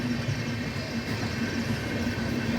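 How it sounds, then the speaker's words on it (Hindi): A passing train makes a dense, continuous rumble and rolling roar, loud and steady throughout with no voices. "आज के समय में ये ट्रेन की ही आवाज़ है।"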